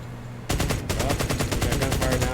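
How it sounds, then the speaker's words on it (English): Rapid automatic gunfire in the tactical video game Door Kickers 2, a loud sustained burst of evenly spaced shots that starts abruptly after a brief quiet moment and continues without pause. "Well, we got gunfire now, so we're kind of compromised."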